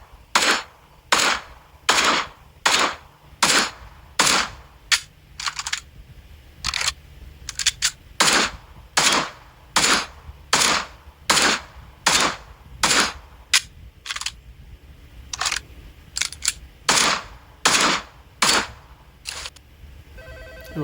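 Desert Eagle pistol fire in a GTA roleplay game, sharp single shots repeated in a steady regular rhythm about once per second, loud and close with no talking.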